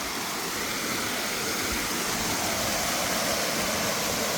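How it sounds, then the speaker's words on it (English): A waterfall along the Appalachian Trail pours in a steady, even rush of broadband water noise, constant and moderately close with no voices. "Oh, look at this waterfall."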